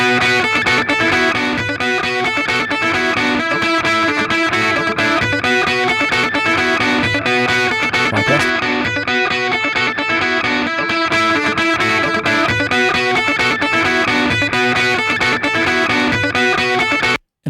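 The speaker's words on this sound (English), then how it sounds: "we can go to the pentode setting, and I'll take the Culture Vulture again. I'll move it to P1" A distorted electric guitar played through a Thermionic Culture Vulture on its P1 pentode setting, a thick, aggressive, saturated riff running loud and continuous for the whole stretch before cutting off abruptly at the end, with no talking.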